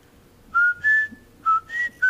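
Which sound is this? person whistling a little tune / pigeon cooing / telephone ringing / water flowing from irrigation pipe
person whistling a little tune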